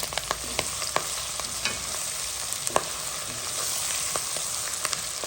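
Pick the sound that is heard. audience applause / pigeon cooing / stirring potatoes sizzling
stirring potatoes sizzling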